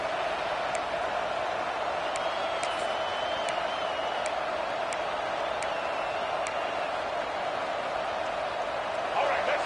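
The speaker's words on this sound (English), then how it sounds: "this crowd getting behind its defense" Stadium crowd in the NCAA 26 college football video game at a USC vs Arkansas matchup, a constant even roar of many voices with a few faint whoops and ticks rising above it, steady in level throughout.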